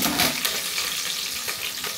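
Curry leaves dropped into hot oil with fenugreek and dried red chilli, a dense, loud, continuous crackling sizzle with sharp spits throughout.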